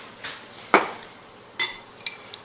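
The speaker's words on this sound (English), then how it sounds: "And you mix everything together." A utensil clinks and scrapes against a bowl while mixing a tilapia marinade, a few scattered sharp taps and brief scrapes, close and quiet with no voices.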